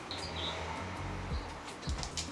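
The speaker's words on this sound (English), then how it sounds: "Do you guys hear the birds chirping?" Birds chirp outdoors in the morning along a running route, a few faint, brief high calls scattered over a soft, steady background hum.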